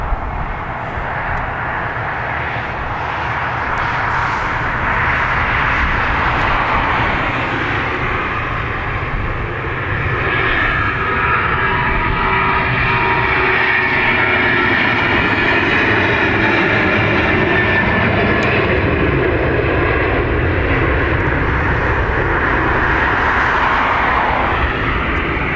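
An airliner bound for Brussels takes off at Dublin Airport, a loud, sustained engine roar that swells and holds throughout with a steady broadband rumble, no voices present.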